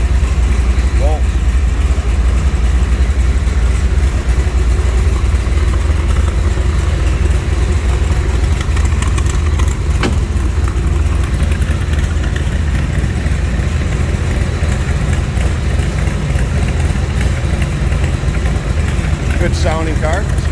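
A 1967 AC Cobra roadster replica idles with a loud, steady, throaty burble that stays constant throughout, with a few faint voices in the background.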